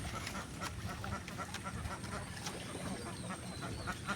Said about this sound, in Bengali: আপনারা দেখতেছেন কাকি ক্যাম্বেল হাঁস